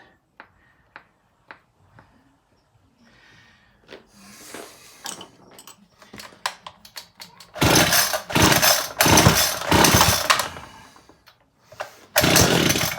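A 26cc Homelite weed eater engine sputters through a few faint pops, then revs loudly in uneven bursts that bog and cut out at full throttle, close by with no talk.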